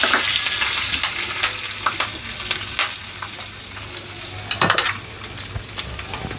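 Dried red chillies and curry leaves fry in hot oil for tomato chutney, a steady close sizzle with occasional stirring scrapes and louder crackles.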